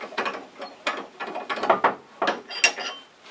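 A one-inch drill bit bores into wood on a lathe while turning a salt and pepper shaker, giving a series of rough, rhythmic grinding bursts close by, about seven or eight pulses, with no talking.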